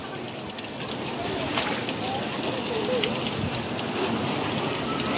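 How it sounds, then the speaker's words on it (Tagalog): A waterfall at Marine Base Beach Resort gives a dense, rain-like rush of falling water, loud and continuous, with a voice briefly speaking over it. "Okay, waterfalls."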